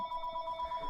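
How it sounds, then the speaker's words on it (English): A telephone rings throughout, a steady electronic double tone sustained at moderate level with a faint room hum beneath and no talk. "sorry for that phone call"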